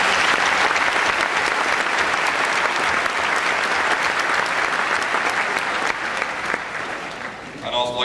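A large audience at a high school graduation ceremony breaks into sustained, dense applause that stays full and even for several seconds before tapering slightly at the end.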